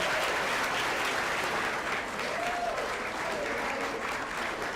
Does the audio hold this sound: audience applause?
yes